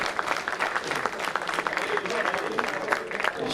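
An audience at an Urdu mushaira applauds to welcome poet Salma Shaheen. The clapping is dense and continuous, with a voice talking over it.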